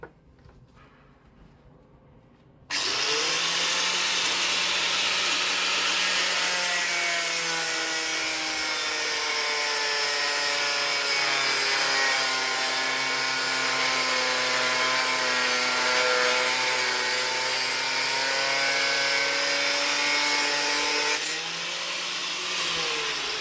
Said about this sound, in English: So it's time for the angle grinder.